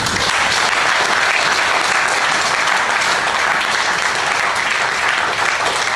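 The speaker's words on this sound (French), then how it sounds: "Moi, j'ai cru que tu allais acclamer le Seigneur." A church congregation at the Assemblée Metanoia in Strasbourg bursts into steady, loud applause that fills the room without a break, with a faint crowd murmur underneath.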